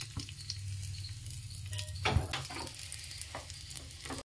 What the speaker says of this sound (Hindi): इसमें कटी हुई अदरक और लहसुन को भी मैं डाल दे रही हूँ।